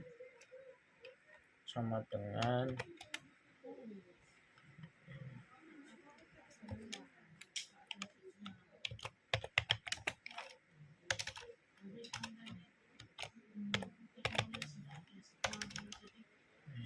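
Typing C++ code on a computer keyboard: irregular bursts of crisp key clicks, some quick runs and some isolated taps, close and quiet, with someone talking softly in between and over the typing.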